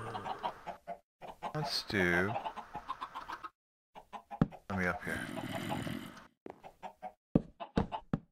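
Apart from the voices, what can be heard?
chickens clucking in Minecraft video game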